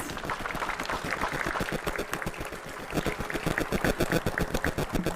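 Outdoor audience applause for a band at a public event, a steady wash of many hands clapping with dense rhythmic spikes, swelling toward the end.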